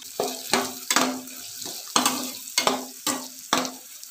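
Green beans with garam masala stirred in a frying pan, giving a series of about eight rhythmic scraping, clattering stirs over a soft sizzle, close and fairly loud, with no voices.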